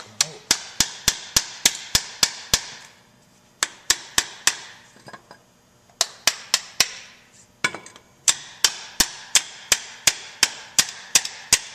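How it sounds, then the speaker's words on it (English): A screwdriver is hammered against the metal backing behind a brake pad on a 2005 Chevy Avalanche, giving sharp, ringing metallic strikes in rapid rhythmic runs separated by short pauses, close and loud. "Notice I'm not hitting the pad, I'm hitting the metal behind the pad."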